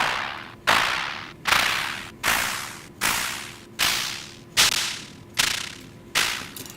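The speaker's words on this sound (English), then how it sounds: "It sort of sounds like a drumstick hitting and bouncing off a snare a little bit." A synthesized fluttery snare made in Ableton Operator, shaped by a bandpass filter under LFO control. Eight loud hissy swishing hits come at a steady pace, about one every 0.8 seconds, each with a sharp attack and a decaying noisy tail.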